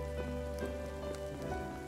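Rain in the video game Final Fantasy VII Remake falls as a soft, steady patter with scattered drop ticks, set under faint sustained game music tones throughout the short clip.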